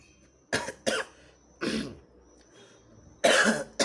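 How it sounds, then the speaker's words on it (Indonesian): Several coughs come close to the microphone in short bursts: a quick double cough, a single one, then a louder, longer cough, with quiet gaps between. "batuk biar dapat iklan obat batuk"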